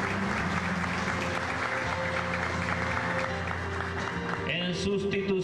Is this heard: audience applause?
yes